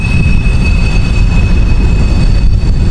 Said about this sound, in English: there was a train going by and it was loud too.